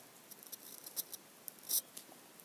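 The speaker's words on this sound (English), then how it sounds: "you're going to cut a slit across, just like how you would after you're done making the wallet so the credit cards fit" Scissors cutting a slit across duct tape while making a bifold wallet, with a few faint, sparse snips and one brief louder cut in a quiet room.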